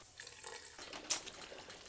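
Water pours briefly into a wet grinder full of batter, a soft faint splash and trickle that rises for a moment and then settles into low background noise.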